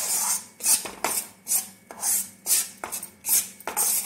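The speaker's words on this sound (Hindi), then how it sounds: "इसे हम इसी तरह चलाते हुए 2-4 मिनट के लिए भूनेंगे ताकि ये जलने ना" Gram flour is stirred and roasted in a pan over low heat, with a spoon scraping in regular strokes about twice a second, close and clear, with no talking.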